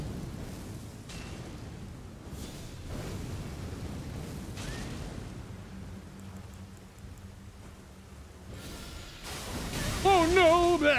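Black knight boss on a mounted horse in Elden Ring: Shadow of the Erdtree slamming the ground, heavy booming impacts recurring over a dense rumbling game soundscape, with a louder surge of noise near the end.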